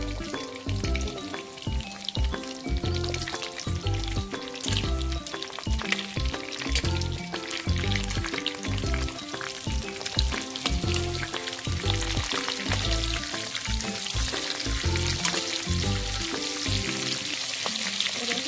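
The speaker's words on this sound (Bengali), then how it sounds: "চিংড়ি মাছগুলো, 30 সেকেন্ড মতো ভাজবো" Shrimp frying in a pan for a Bengali coconut-milk prawn malai curry, giving a loud, steady sizzle that carries on without a break. Stirring clatters over it at intervals, and no one speaks.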